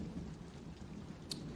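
A thunderstorm with steady rain hisses and patters against a low rumbling background, faint and distant, with one brief sharp crackle near the end.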